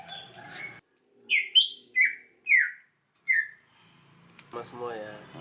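A caged songbird being fitted with a leg ring calls in a series of about five short, bright chirps spaced roughly half a second apart, close and clear, with a person talking before and after.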